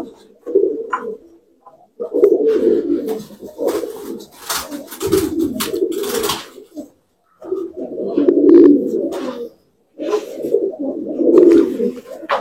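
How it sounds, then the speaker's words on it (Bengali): Caged pigeons coo nearby in deep, throaty, rolling bursts, several calls separated by short pauses, loud and clear with little else around them. "আর একটা পায়রা দেখাচ্ছি খাঁচার দিকে"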